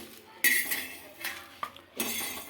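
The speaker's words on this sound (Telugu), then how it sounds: "మసాలా దినుసులన్నీ ఫ్రై అయినాయి ఇంకొక ప్లేట్లోకి అయితే తీసుకుంటున్నాం" Fried whole spices being scraped and tipped from a pan onto a plate for Chicken Maharani masala, with several bursts of metallic clinks and scraping, close and moderately loud, separated by short pauses.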